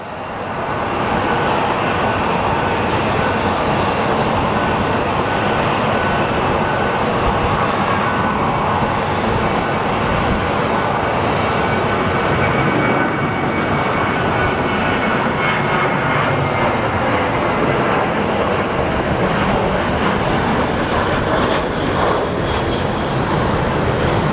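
An airliner on the Dallas flight at Phoenix Sky Harbor Airport, its jet engine roar loud and steady throughout as it passes close by, a broad continuous rumble with no talk over it.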